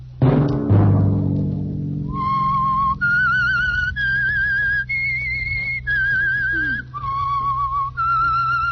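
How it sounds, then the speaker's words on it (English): A musical whistled theme from an old radio drama: a series of sustained whistle notes rising and falling, heard clearly over a low drone after a fading opening chord. "Let that whistle be your signal from the Whistler"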